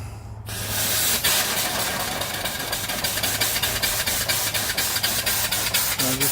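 A live steam mill engine runs with its petcocks open, a steady loud hiss and spray of venting steam carrying an even rhythmic chuff of regular beats from the engine, with no talk.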